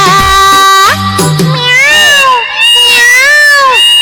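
Within a song, a voice imitates a cat's meow with loud, drawn-out, sliding, wailing notes that rise and fall over about four seconds.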